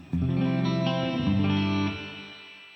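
A guitar tone run through a TC Electronic Hall of Fame 2 reverb pedal with its low frequencies damped, leaving a bright, thin wash that sustains loud for about two seconds and then fades out.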